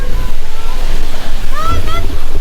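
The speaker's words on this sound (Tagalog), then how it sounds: "Buti na lang medyo mahangin ngayon." Steady wind blowing by a river in Italy, a loud continuous rush buffeting the microphone, with faint higher whistling tones near the end.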